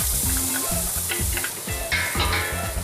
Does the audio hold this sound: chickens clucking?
no